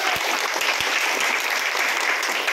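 Dense, steady applause from a crowd at a political gathering honouring Chief Minister Shinde, loud and continuous from start to end with no voices over it.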